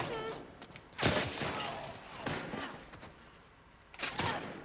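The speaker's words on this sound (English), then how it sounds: "Why are they only shooting me?" Enemy gunfire in The Last of Us Part II comes as three separate bursts of shots, with sharp loud cracks roughly a second apart against quieter game ambience.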